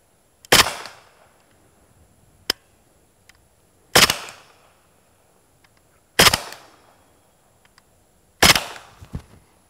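Four suppressed shots from a Kalashnikov USA KP9 blowback pistol fired downrange into dirt outdoors, each a sharp muffled crack with a short decaying tail, spaced about two seconds apart, with faint clicks between them.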